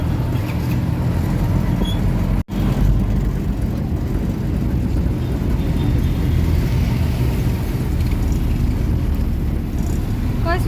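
An auto rickshaw rides through town traffic in Kalamb after the Monday market, a loud, steady engine rumble and road noise running throughout, with one brief dropout early on.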